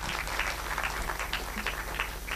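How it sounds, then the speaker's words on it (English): An audience applauds at the grand finale of a singing competition in Goa, a dense wash of clapping at moderate loudness filling the short moment. "Huge round of applause for the confidence the kids are showing on stage"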